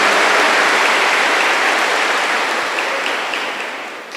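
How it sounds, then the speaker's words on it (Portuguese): A church congregation applauds during a sermon, a loud, dense, sustained clapping that fills the space and slowly tapers off. "Aplauda essa palavra."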